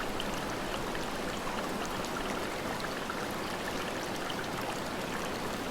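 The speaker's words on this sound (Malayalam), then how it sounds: "വെള്ളച്ചാട്ടത്തിന്റെ ചുറ്റുമുള്ള ശബ്ദം തന്നെ ഒരു സംഗീതം പോലെയാണ്." A waterfall among caves in Meghalaya pours out a constant, even rushing wash of flowing water, moderately soft and steady, with no voices over it.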